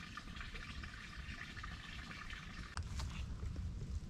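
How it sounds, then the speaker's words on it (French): Small forest trickle from a water overflow drain, a steady close-up gurgle and splash running continuously, slightly louder toward the end. "c'est une évacuation de trop plein d'eau qui vient de quelque part, certainement du haut de la forêt. Et du coup voilà, ça nous fait un tout petit ruisseau"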